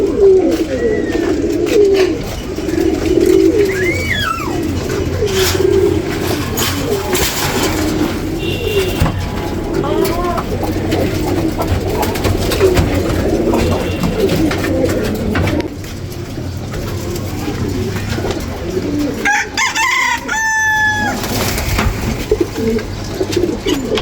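Pet pigeons in a home loft coo steadily and overlapping throughout, low rolling calls close by, with a few brief chirps and flutters and a light background hum.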